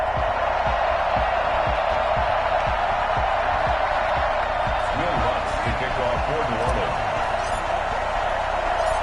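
A sellout crowd at a football stadium roars continuously for the Falcons against the New Orleans Saints, a loud, dense wall of cheering with rhythmic thumps underneath.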